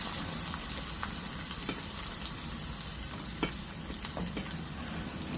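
Curry leaves, green chili and chopped garlic sizzle and crackle steadily in hot oil for a dahi tadka, a continuous close frying hiss with small pops and occasional stirring scrapes, no talking.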